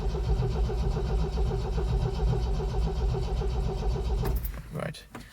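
A 1974 MGB GT engine being cranked on a cold start, with a steady, rhythmic starter churn that runs unbroken for about four seconds and then cuts off with a few clunks.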